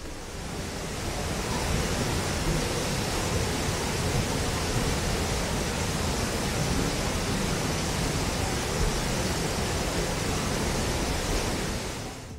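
A constant, broad roar of rushing water from Lower Falls, a 30-foot waterfall in Banff National Park, fills the air, loud and unbroken from start to finish.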